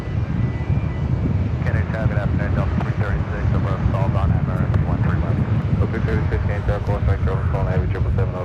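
An Air India airliner begins its takeoff roll on runway 13 right at JFK airport: a steady, broad engine roar mixed with wind buffeting the microphone, with faint voices running underneath throughout.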